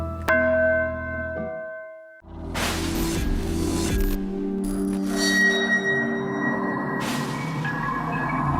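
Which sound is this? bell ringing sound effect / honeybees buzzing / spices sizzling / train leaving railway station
bell ringing sound effect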